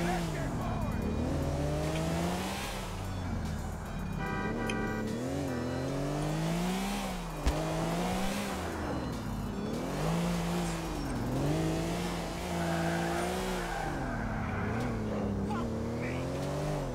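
A Koenigsegg One:1 supercar in GTA IV revving hard through repeated rising and falling engine sweeps as it accelerates and shifts, with tire squeal and a brief clunk midway, the engine loud and close throughout.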